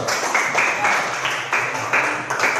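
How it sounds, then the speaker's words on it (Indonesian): A classroom gives a round of applause for group 1 during an Islamic religious education lesson, several seconds of steady clapping with no voices. "Tepuk tangan untuk kelompok 1"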